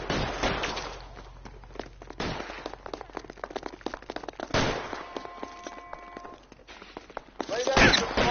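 Gunfire during a police shootout in the game L.A. Noire, with sharp cracking shots scattered across the stretch, a few standing out loud and close, under shouted voices.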